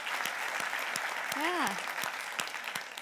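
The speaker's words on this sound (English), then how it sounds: "Can we get a round of applause for John Hudson," Conference audience claps for a speaker, moderately loud applause with a few distinct claps, while a voice briefly calls out over it.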